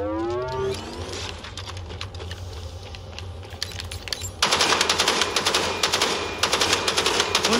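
Sniper rifle shots in a video game ring out over game ambience with rapid clicking, then a sudden louder section brings a string of sharp cracks near the listener.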